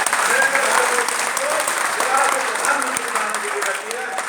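Sustained applause from an audience at a political rally speech, dense and steady clapping filling the whole stretch with crowd noise and no break.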